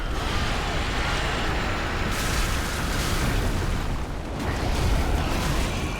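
A fire bomb bursting in the video game Champions of Ashes, a continuous loud roaring blast that swells and fades over several seconds.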